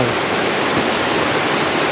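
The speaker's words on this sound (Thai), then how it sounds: "ส่วนเสียงน้ำตก ใครชอบก็ไปตรงนู้นได้" A waterfall near a mountain campsite roars as a steady, dense rush of falling water, loud and unbroken throughout.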